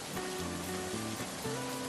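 Steady, dense rain pours outside a railway station, a loud, constant hiss under a sustained musical tone, with no talking.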